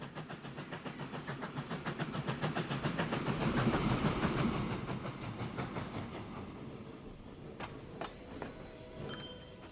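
A train running in the video game Transport Fever 2, set in East Yorkshire, with a steady rhythmic clatter of wheels that swells to a peak and then eases, plus hissing and faint higher tones near the end, with no talking.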